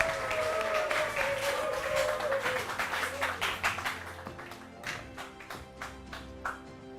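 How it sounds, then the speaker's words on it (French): Audience applause at a comedy show welcoming comedian Monsieur Satina, dense clapping at first under some music, thinning into scattered, separate claps as it fades, moderately distant. "Monsieur Satina, sous vos applaudissements."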